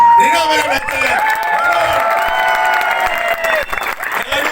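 An audience at a labourers' premier league prize-giving ceremony claps and cheers loudly, a dense wash of applause with whoops and shouting voices over it, continuing throughout.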